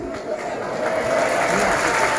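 Steady applause from a crowd swells and holds for a couple of seconds, dense and fairly close.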